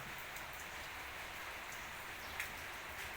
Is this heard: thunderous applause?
no